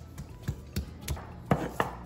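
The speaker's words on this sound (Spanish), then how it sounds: "vamos a machucar este ajo bien fino" Garlic with salt being pounded in a Mexican molcajete: a series of about seven dull, close knocks of stone on stone spaced irregularly, with no speech.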